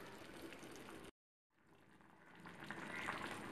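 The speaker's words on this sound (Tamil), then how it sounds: "நல்லா கொதி கொதி வந்துடுச்சு" A spicy homemade lemon pickle mixture bubbles in a pan with a soft, low sizzling boil, heard faintly and close, broken by a brief silent gap before the bubbling resumes and grows slightly.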